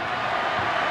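Stadium crowd at a 1997 rugby league match between the Gold Coast Chargers and St George Dragons, a steady broad roar of distant spectators filling the whole second without a break.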